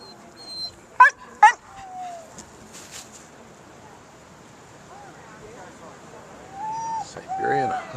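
Siberian huskies at an outdoor maple celebration event give two sharp barks early, then whimpers and drawn-out whining yips near the end, with people talking nearby.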